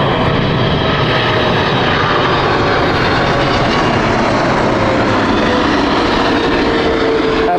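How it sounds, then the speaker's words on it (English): A British Airways Boeing 777-300 inbound from Los Angeles passes overhead on approach to Heathrow, its engines a loud, continuous roar with a whining tone that stays strong for the whole stretch, no voices over it. "That was the LAX flight which just went over us. This is BA 28 Foxtrot with their 777-300 from Los Angeles."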